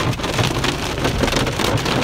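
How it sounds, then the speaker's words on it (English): Hail pelting down outside at a field trial camp area, a dense, steady patter of small impacts across the whole stretch with no pauses, fairly loud and close. "It is hailing out there."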